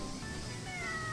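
A cartoonish cat meow from a video game sounds loud and sustained over steady background music, lasting about a second.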